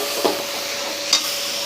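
Taro and shrimp curry stirred in a pan, a steady soft sizzle running throughout with two brief scraping clinks of the spoon, close and alone without talk.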